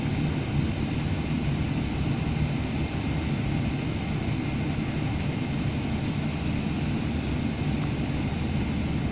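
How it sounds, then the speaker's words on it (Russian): An Emirates airliner takes off, heard from inside the cabin as a steady, loud low-pitched engine roar that holds constant throughout with no voices. "Ну что ж, мы взлетаем."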